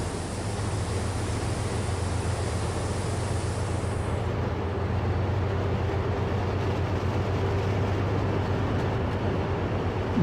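A subway train bound for Jamaica rumbles steadily along the East Point Branch in snowy weather, a continuous loud roar of wheels and motors with a high whine fading out partway through, and no voices.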